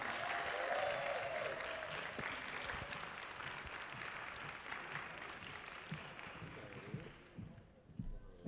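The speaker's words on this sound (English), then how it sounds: "Please give them a big round of applause." A seated crowd at the Lindyfest 2018 swing dance event gives a sustained round of applause, a steady wash of many hands clapping for about seven seconds before it tapers off near the end.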